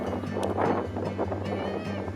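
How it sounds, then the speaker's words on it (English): Steady wind buffeting the microphone with a low, constant rumble near the China–Vietnam border, gusting throughout the short stretch. "Pretty windy here, so we won't talk too long."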